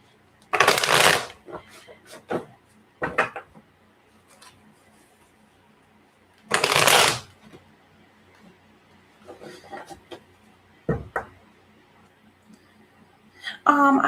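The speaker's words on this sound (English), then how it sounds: "let me put these cards away" A deck of tarot cards shuffled in two loud riffling bursts, then tapped, squared and handled with scattered clicks and shuffles as the cards are put away; a voice speaks briefly between the sounds.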